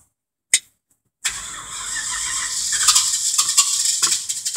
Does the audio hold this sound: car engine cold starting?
yes